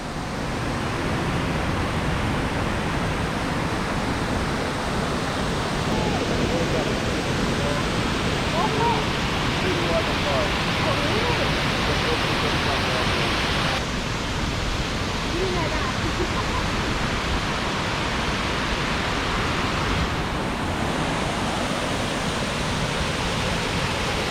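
Reach Falls, a tropical waterfall in Portland, Jamaica, roars as a steady, dense wash of falling water, loud and constant throughout with no break.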